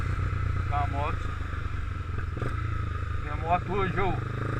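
A Honda CB300R motorcycle rumbles along at low volume on a ride, its engine note rising in short revving bursts, while someone talks over it.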